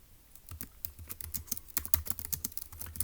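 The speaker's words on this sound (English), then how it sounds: "So let's go ahead and type that up in our notes in section A" Rapid, irregular keyboard typing close up while notes are entered during a Turing Machine logic puzzle, a steady run of sharp key clicks with no speech.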